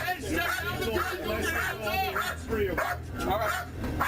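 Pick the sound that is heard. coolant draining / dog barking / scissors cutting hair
dog barking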